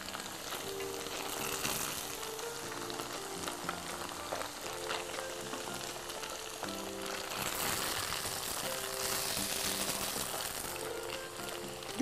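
Vegetarian hủ tiếu rice noodles pan-frying in hot oil, giving a steady, dense sizzle and crackle that runs unbroken for the whole stretch, close and fairly loud, with no talking.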